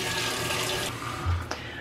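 Tap water runs steadily into a kitchen sink while a rhubarb pie is being made, a continuous close hiss that briefly shifts before a short clunk near the end.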